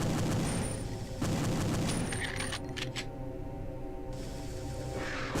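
Falcon 2 pistol firing rapidly in the Perfect Dark video game, a loud run of sharp repeated shots with game effects and a steady background hum, close and dense.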